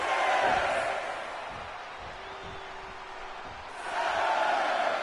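Arena crowd noise in the WWE 2K25 wrestling video game, a broad steady roar that swells loudly at the start, eases into a lower murmur through the middle, then rises again at the end, with no talk over it.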